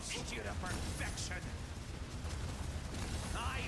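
In Terminull Brigade, a boss fires volleys of missiles amid constant dense explosions and gunfire, loud and continuous, with a player talking over the barrage.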